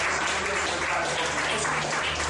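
A church congregation applauds loudly and steadily, a dense wash of clapping filling the room throughout.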